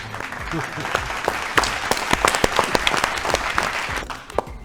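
A studio audience at an agricultural quiz show claps in a dense burst of sharp, closely spaced hand claps, loud and near, holding steady for several seconds before briefly trailing off.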